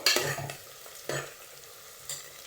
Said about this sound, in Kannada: ಸೊ ಈರುಳ್ಳಿ ಚೆನ್ನಾಗಿ ಗೋಲ್ಡನ್ ಕಲರ್ ಬರಬೇಕು ಅಂತ ತನಕ ಫ್ರೈ ಮಾಡ್ಕೊಳ್ಳಿ.